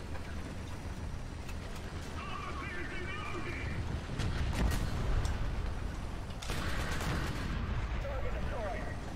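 Cannon fire in War Thunder arcade battle: a few heavy booming shots over a continuous rumbling engine and battlefield din, with a voice talking throughout.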